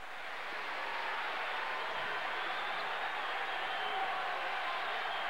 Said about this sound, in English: Wisconsin crowd really into this one. In this old field house, they can make a lot of noise.